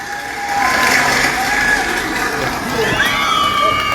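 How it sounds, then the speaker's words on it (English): Crowd at a comedy show at Stomp The Yard Cinema on Melrose erupts in sustained applause and cheering for Goofy, a dense, loud wash of clapping and shouts filling the room throughout. "Everybody, round of applause for Goofy."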